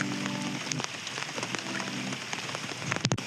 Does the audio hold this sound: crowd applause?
no